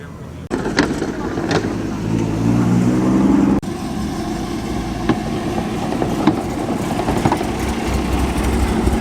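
A Daihatsu Copen, a small Japanese-market kei car, drives past at a classic car show at Ragley Hall, a steady close engine drone rising and then settling, with people talking over it.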